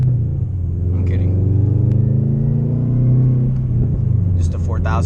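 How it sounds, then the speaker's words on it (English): A loud Subaru WRX engine drones as the car drives, with a few brief exhaust pops between gear shifts and a voice heard near the end. "She pops a little bit between the shifts as well"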